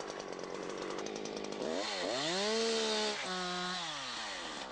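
A chainsaw cuts into a tree trunk, its engine loud and close, revving up and down in rising and falling sweeps with no voices.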